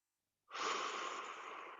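A single deep, drawn-out breath during a stretching session, close and fairly loud, rising abruptly after a short silence and holding as a steady airy rush.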